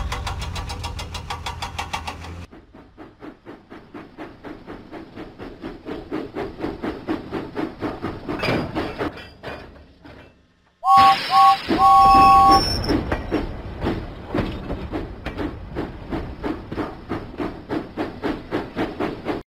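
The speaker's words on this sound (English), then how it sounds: "James pumped his pistons and puffed out of the docks." A cartoon steam engine in a Thomas and Friends video game puffs with steady, evenly spaced chuffs that continue after a short pause, with game music and a brief chime over them.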